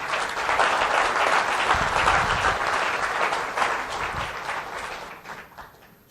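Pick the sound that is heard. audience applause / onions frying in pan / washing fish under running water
audience applause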